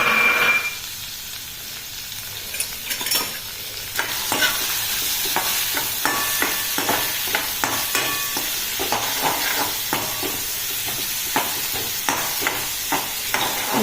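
Chicken cutlet mixture with peas being sautéed in a pan, with steady frying sizzle and repeated stirring scrapes of a spoon against the pan throughout, close and continuous.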